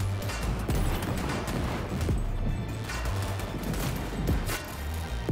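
Dense, continuous gunfire from a video game battle, with bursts of shots and booms packed closely together at steady loudness throughout, with no speech.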